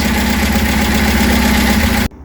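Reliant Supervan 3 three-wheeler engine running steadily under restoration, a loud, even mechanical drone that cuts off abruptly near the end.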